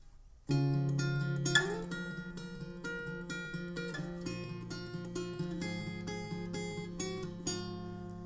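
An acoustic guitar plays the verse of a song in a lesson, picking paired strings and ringing arpeggiated chords with clear, close plucked notes that sustain alone without talk.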